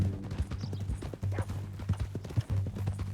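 Horse hooves clip-clopping in a steady walking rhythm in the video game Red Dead Redemption 2, close and continuous, with a low hum and faint background sounds.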